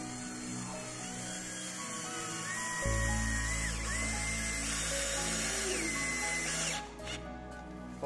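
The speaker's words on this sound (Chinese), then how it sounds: "然后咧就再安装自供螺丝" A power drill drives self-tapping screws into a wooden board, a steady, whining motor hum that rises in pitch and sustains for several seconds, close and fairly quiet, with no speech.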